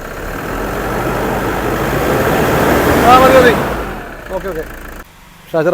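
A Toyota Fortuner engine runs close by with a steady rumble and rises briefly in a quick rev, then settles as people start talking.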